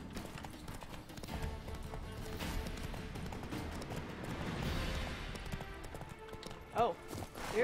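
A horse's hooves clip-clop at a steady gallop in the fantasy video game The Witcher 3, sitting low under game ambience, with a brief louder burst near the end.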